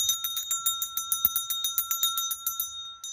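A small handheld bell rung rapidly by hand, about twenty quick bright strikes in an even rhythm, close and clear with no speech.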